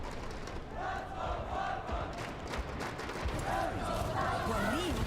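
A live esports crowd at an Overwatch 2 playoff match roars and cheers continuously in a large arena, the loud sustained noise running under excited commentary.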